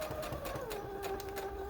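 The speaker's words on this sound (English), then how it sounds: "So I'm going to sew right along there, and I'm going to go in just a little bit, and I'm going to back stitch to that corner." A sewing machine back stitching into a corner while making a sanitizer holder, a steady fast mechanical whir with rapid needle ticks and a falling motor tone.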